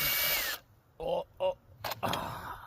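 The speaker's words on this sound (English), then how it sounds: "I can take that drill I had and drill out the back of this rivet so it's not attached anymore" A power drill bores out a rivet on the crank handle of a deer feeder winch in a loud, brief whirring burst that winds down, followed by someone speaking.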